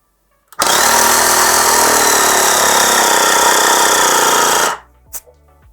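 A small AMIO Acomp-11 portable car air compressor starts abruptly and runs loud with a rattling buzz for about four seconds, then cuts off automatically at 2.2 atmospheres, leaving a few faint clicks.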